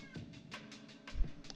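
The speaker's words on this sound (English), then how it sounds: "my cat's crying over there" A cat cries with a few faint, short meows off in another part of the room, quiet and scattered against a low background.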